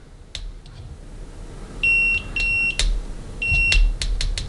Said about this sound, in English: Continuity, there we have the little audible display.